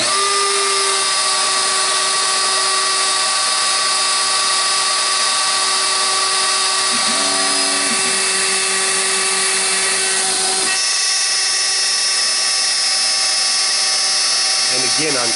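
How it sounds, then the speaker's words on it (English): A Shapeoko 3 CNC router cuts a simple wooden sign, its spindle holding a loud, steady high-pitched whine that shifts in tone briefly as the bit changes its path through the wood. "I'll start up the router. Things are going to get a little loud,"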